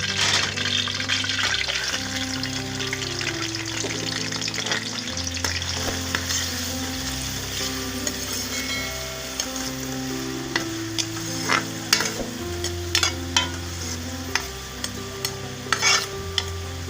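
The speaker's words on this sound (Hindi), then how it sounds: "अब इसमें प्याज डाल देंगे।" Onion frying in hot oil in a pan while making aloo kaleji, a steady close sizzle with stirring and scraping clatter throughout, a few sharp utensil knocks near the end, no voices.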